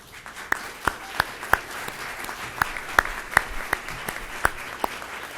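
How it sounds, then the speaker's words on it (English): A round of applause from a conference audience for standing state officials, heard as sparse, separate sharp claps at an uneven pace over a light, continuous crowd patter, with no dense roar. "so we can all give you a round of applause"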